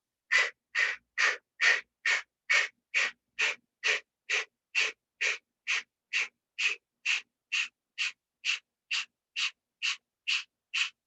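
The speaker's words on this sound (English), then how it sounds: "in this version of Kapalabhati, you exhale through your mouth" Kapalabhati breathing with forceful exhales through the mouth: about two dozen sharp, evenly spaced puffs of breath at a steady quick rhythm, close and clear, with no talking.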